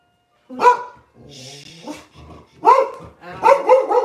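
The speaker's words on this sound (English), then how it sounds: "the dog's barking" A dog barks close by in several sharp bursts, with a short growly stretch between the barks.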